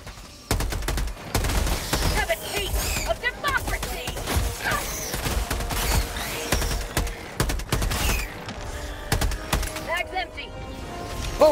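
Rapid automatic gunfire in the co-op shooter Helldivers 2, dense bursts of loud cracks with explosions, mixed with game effects and someone talking over the action.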